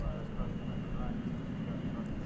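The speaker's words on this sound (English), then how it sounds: "A320 going to Minneapolis." A Delta Airbus A320 airliner at DFW Airport, a steady engine roar at moderate distance, heard under someone talking.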